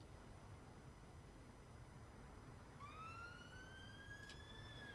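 An ambulance siren at a large kitchen fire with a person trapped inside starts up partway through and rises in a single wailing sweep, faint and distant over steady background rumble.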